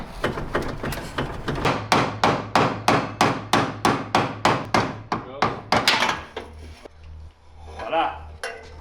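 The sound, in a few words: hammering to remove a car steering rack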